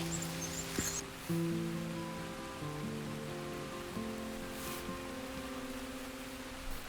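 Rain falls steadily over a marsh as an even, soft hiss that lasts throughout, with faint tonal sounds drifting underneath and no voices.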